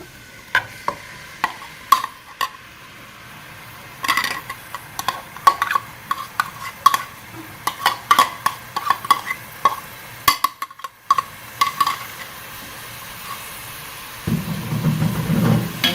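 Onion and garlic fry in a pan for chicken mandi, stirred with a spoon: repeated sharp scrapes and clicks over a steady low sizzle, with a louder rush of heat near the end.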